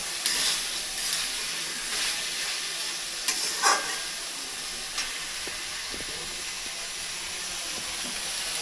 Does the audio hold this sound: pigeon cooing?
no